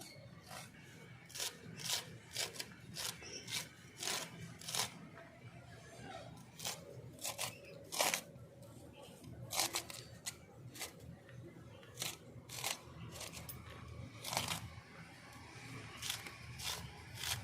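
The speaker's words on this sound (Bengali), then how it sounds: "একদম কুচি কুচি করে কাটবো" Sharp knife chopping red potato leaf greens finely on a board in a village kitchen, a rapid run of crisp, close cuts in uneven bursts, with brief pauses between strokes.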